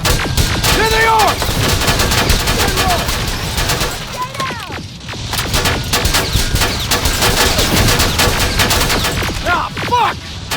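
Heavy automatic gunfire in a battle in the video game Terminator: Resistance, dense rapid bursts of loud shots rattling continuously with booming impacts, while voices shout over the firing.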